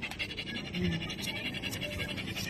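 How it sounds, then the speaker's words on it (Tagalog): Rapid, rhythmic panting from a dog nearby, quick breaths repeating steadily throughout at a low volume. "Hinihingal yung aso."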